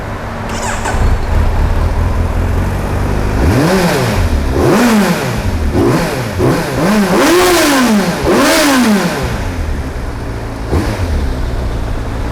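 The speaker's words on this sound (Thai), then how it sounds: "เดี๋ยวเราฟังเสียงเครื่องยนต์กันดูนะครับ" A 2018 Kawasaki Z900 motorcycle with a carbon-covered exhaust idles loudly nearby, then revs up and down repeatedly in several surging bursts before settling back to a steady rumble.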